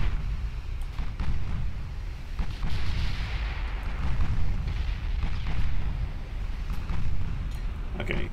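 Continuous rumbling naval gunfire from warships engaging the Conqueror in the Ultimate Admiral Dreadnoughts naval battle game, Tyrrhenian Sea: dense booming salvos and distant blasts rolling steadily with no talk.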